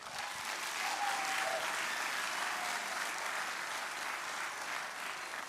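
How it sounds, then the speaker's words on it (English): A school orchestra's spring concert audience applauds steadily in a hall, a dense, even wash of clapping at moderate level that holds for the whole stretch without pause. "So another big round of applause."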